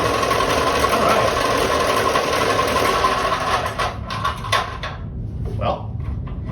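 Delta P-20 scroll saw motor running with a steady, loud mechanical whir and rattle that cuts off near the end, followed by a few faint clanks and knocks.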